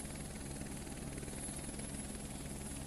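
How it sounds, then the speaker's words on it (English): Helicopter in a video game, a steady, loud rotor drone with rhythmic chop, continuous throughout and close, with no talk over it. "Wait, when he get a freaking helicopter?"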